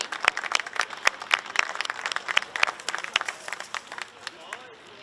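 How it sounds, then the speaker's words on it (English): A crowd at a kart racing event applauds the weekend podium finishers, with a dense burst of clapping near the microphone that thins out and fades over a few seconds while an announcer talks over it. "please give your Minimax weekend podium a big cheer and a round of applause"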